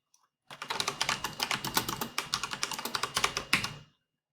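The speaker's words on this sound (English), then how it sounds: "start just typing our notes." Rapid, steady keystrokes on a computer keyboard while writing notes in a note-taking app, close and clear, with no talk.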